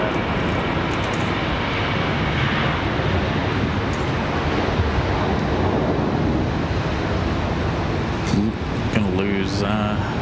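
A plane takes off from runway 23 right at Raleigh-Durham International Airport, a broad continuous engine roar held at steady loudness for about ten seconds, with a radio voice briefly heard near the end.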